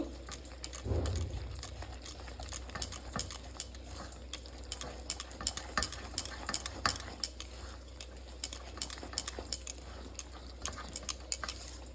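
A spoon scrapes and taps rhythmically against a metal pan while vegetables are stirred in water with salt and turmeric, a steady stream of light clicks and clinks over quiet background.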